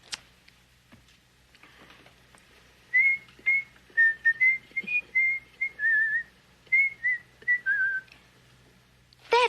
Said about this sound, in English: It was somebody whistling it.